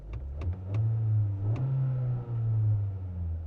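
A 2025 Honda Accord turbo, rebuilt after a boost leak, rolls and accelerates on a drive around the block, its engine a steady low hum and rumble. A few soft clicks sound near the start.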